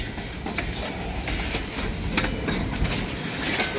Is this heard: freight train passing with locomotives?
yes